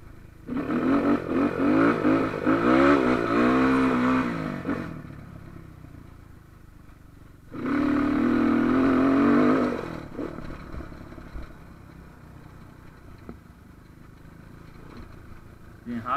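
Small JP motorcycle, upgraded to 230 cc, riding through a sugarcane field: two stretches of close engine revving with rising and falling pitch, separated by quieter idle and road noise, with someone talking over it at times.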